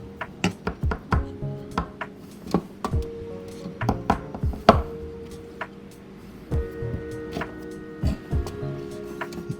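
A knife chops red onion into shorter segments on a cutting board for coleslaw, giving a run of sharp, close, irregular thuds and taps, some in quick bursts and some spaced out, with no talking.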